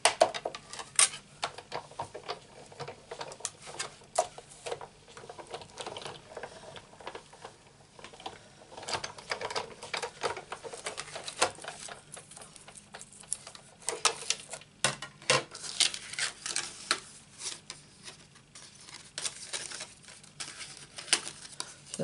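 A die-cutting machine rolling a cutting plate through to cut out card, giving a long stretch of crackling, crinkling pressure with uneven bursts and clicks, close and steady with no talking.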